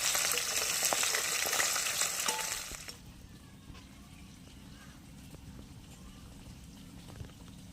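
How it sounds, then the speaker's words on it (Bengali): Fish frying in oil in a pan at home, a loud dense sizzle for about three seconds that then drops sharply to a quiet, steady low crackle, with faint speech. "তো মাছগুলো একদিক ভাজা হয়ে গেছে"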